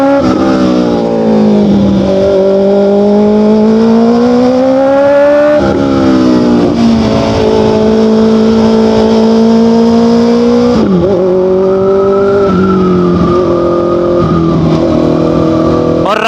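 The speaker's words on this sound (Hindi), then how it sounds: "क्या ही खतरनाक साउंड कर रही है यार बाइक।" A motorcycle with an Austin Racing exhaust revs hard and continuously, its pitch climbing and dropping as it shifts through gears, loud and close throughout.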